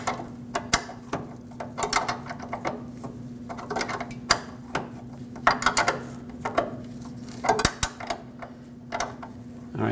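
A brake hose fitting being snugged up with a wrench on a 2009-2010 Dodge Ram 1500 rear brake line gives close, irregular metallic clicks and ratcheting taps over a faint steady hum.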